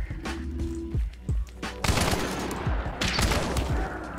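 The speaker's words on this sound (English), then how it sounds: "Oh, I'm getting shot at." Gunfire in the shooter Escape from Tarkov: rapid bursts of shots crackle through a dense firefight, with sharp reports and echoing impacts piling up over a few seconds, fairly loud and close.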